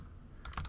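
A few quick keystrokes on a computer keyboard, faint and close, a short burst of light clicks typing a terminal command after a brief quiet moment.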